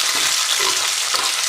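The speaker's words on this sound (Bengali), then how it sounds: "মোটামুটি একটু ভাজা করে নেব।" Egg paratha fries in a pan with a steady, dense sizzle that stays close and even throughout, with no voices.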